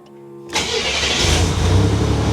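A 1987 Buick Grand National engine cranks and catches after a brief starter whir, then settles into a steady, loud close-up idle with no talking.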